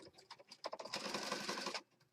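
A sewing machine stitches down junk journal pages in a short, close, rapid run that speeds into a steady burst of stitching for about a second, then stops.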